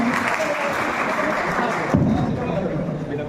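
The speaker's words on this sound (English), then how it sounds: "Everyone, please give a big round of applause." Audience applause fills a university hall at a Teacher's Day celebration in a zoology department, dense clapping that shifts and thins near the end, with some voices underneath.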